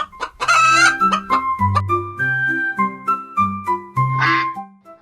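A chicken clucks and crows in several short, close bursts over a bright, tuneful musical backing.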